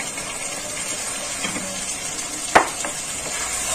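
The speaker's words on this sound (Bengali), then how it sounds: "আমি এবার এই যে ভাজা আলুগুলোকে দিয়ে দেব" Fried potatoes sizzle with mutton in its own fat in a pan, a steady close frying hiss broken by one sharp clink of a utensil.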